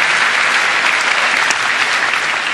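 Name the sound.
audience applause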